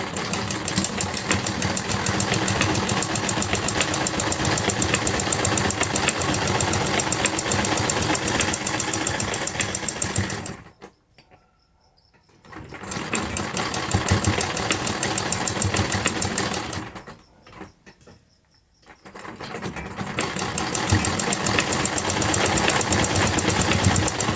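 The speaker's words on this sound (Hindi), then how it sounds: "उसके बाद ये जो किनारी पर एक्स्ट्रा कपड़ा है हम नीचे इस तरह से सिलाई से अटैच कर देंगे।" A sewing machine stitches the extra fabric at the edge of a velvet kurti's panel neck with lace. It runs in loud, steady, buzzing bursts that stop twice briefly, with no talking.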